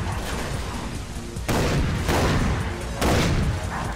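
Shotgun blasts in the game Far Cry 3 Blood Dragon, three heavy booming shots roughly a second apart over a rumbling bed of background fire, each with a long decaying tail.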